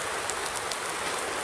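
Steady rainfall in Farming Simulator 19 makes a constant bright hiss with faint droplet patter, heard alone and loud for a short stretch.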